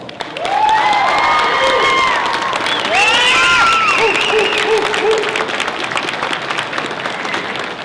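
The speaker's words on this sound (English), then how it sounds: "So let's give him one more round of applause." A large convention crowd at Rocky Mountain Con 2014 applauds and cheers, with sustained clapping, whoops and shouted voices rising over a dense wash of noise that stays loud to the end.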